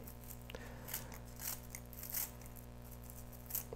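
Food is cut up with scissors on top of kimchi fried rice (kimchi bokkeumbap), making several quiet snipping and crunching cuts over a steady background hum, with no voices.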